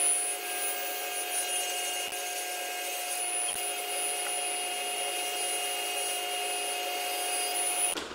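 A power saw rips thick wood pieces into skinny table legs, a steady loud whine running nearly unbroken from start to finish, with two brief dips in the cut.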